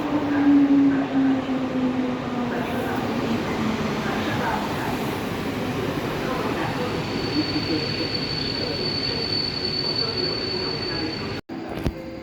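Train at Warsaw West railway station, an accelerated service, passing close by as a loud, continuous rolling rumble with a thin, steady high-pitched wheel squeal, cutting off abruptly near the end.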